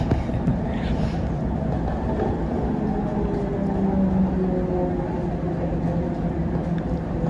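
A Mumbai monorail train runs along its track with a steady low rumble and droning hum, broad and continuous throughout, with faint tonal whines rising now and then.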